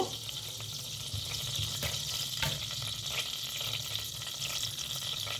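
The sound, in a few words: cumin and mustard seeds sizzling in hot oil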